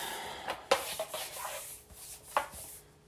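Gasket material along the back of a truck pocket-style fender flare being cut: a few short scraping, chopping strokes close by in a quiet outdoor setting.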